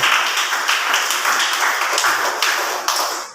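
A church congregation claps in a steady, dense rhythm, loud and close, with regular accented beats running throughout.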